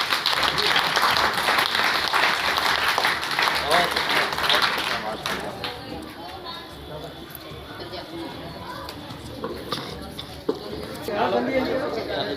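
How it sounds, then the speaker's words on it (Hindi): Crowd clapping hands at a January 26 Republic Day celebration at a mosque in Mustafabad, Delhi, giving dense, loud, sustained applause with lively chatter, fading into a murmuring crowd partway through. "ताली बजा।"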